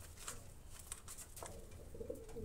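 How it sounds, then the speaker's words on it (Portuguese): Pigeons coo softly near a nest with a brooding dove, faint and distant over low background noise, no talking. "Aqui tem uma pomba chocando"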